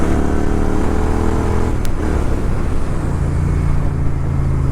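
A Royal Enfield Interceptor 650 fitted with a PowerRage full exhaust revs hard in second gear, a loud close throaty engine roar that builds, then drops in pitch after a shift and settles into a steady drone.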